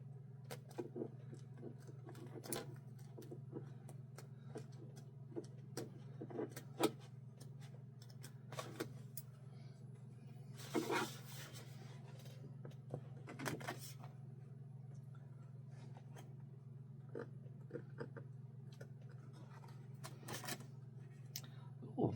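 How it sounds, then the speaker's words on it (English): Small scissors snipping appliqué fabric at close range, scattered sharp clicks and short snips spread across the clip over a quiet steady hum, with a brief rustle of fabric handling midway. "I left a dashed line at the top of this, so I'm going to get my little scissors"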